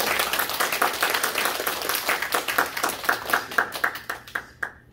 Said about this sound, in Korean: 우리 박수로 한번 환영하고 축복하는 박수 드리겠습니다.